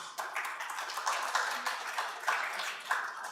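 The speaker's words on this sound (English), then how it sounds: "So we might just give them a round of applause if that's okay" An audience at a member conference clapping for a board panel, a steady round of many hands applauding at moderate volume throughout with no voices over it.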